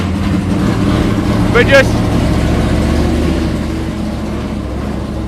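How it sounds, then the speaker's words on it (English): A 7.6-litre McLaren M8F race car engine idles with a deep, steady rumble at a car meet, a brief higher blip rising partway through while someone talks over it. "Well, the M8F's just started up."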